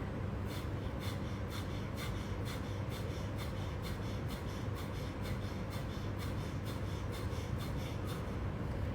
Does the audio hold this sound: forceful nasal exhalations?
yes